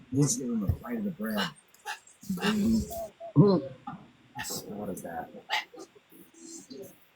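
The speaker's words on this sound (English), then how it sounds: "You heard my other parrot." Pet parrot chattering up close, with voice-like calls and sharp squawks in uneven bursts separated by short pauses.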